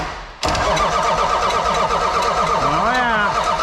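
A 1979 Ford truck with a Cummins diesel engine cranks briefly, then catches and settles into a loud, steady rumbling idle, with a rising rev near the end.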